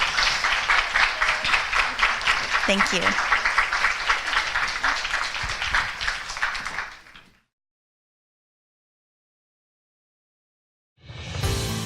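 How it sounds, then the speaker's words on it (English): An audience at a 2017 success panel event gives a sustained round of clapping for several seconds that fades out into silence, followed by a brief burst of sound at the end. "Let's give them a wonderful round of applause."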